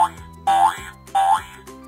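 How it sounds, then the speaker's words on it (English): A cartoon boing effect stands in for a bouncing kangaroo in an animal picture book: two springy, wobbling boings rise and fall one after another, clear and fairly loud, with no talk over them. "Boing, boing, boing. Kangaroo."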